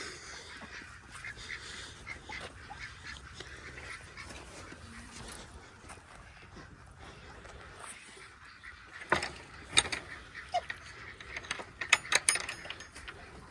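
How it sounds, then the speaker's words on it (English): Mixed flock of Peking and Muscovy duck hens in a farm pen, with a steady busy background of quacking and rustling and several sharper, louder calls and clatters bunching near the end. "Mixture of Peking duck and Muscovy here."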